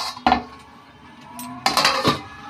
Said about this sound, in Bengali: আমি ঢাকাটা খুললাম।